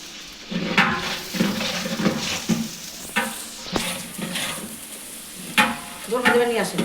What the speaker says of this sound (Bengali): এবার পেঁয়াজগুলো একটু নেড়ে চেড়ে দিতে হবে যাতে পুড়ে না যায়